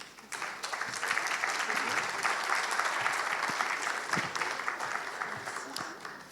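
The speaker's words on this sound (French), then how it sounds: "On peut les applaudir." Sustained audience applause at a water-conservation conference in Corsica, a dense steady wash of many hands clapping that carries on throughout, with faint voices mixed in underneath.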